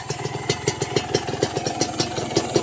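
A Kawasaki Ninja sport motorcycle engine idles close by, a smooth, even pulsing putter with a light rhythmic clatter, steady throughout with no voices.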